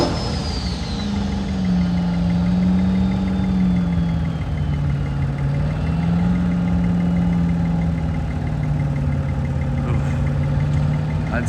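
Duramax diesel truck engine under sustained heavy load during a street-class sled pull, a steady loud low drone with a wavering pitch that dips and recovers over the run, continuous throughout.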